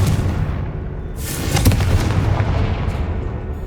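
Confringo, an explosive spell in the wizarding game Hogwarts Legacy, goes off with a loud, booming blast and crackling burst over a heavy low rumble, close and sudden, then fading into a lingering roar.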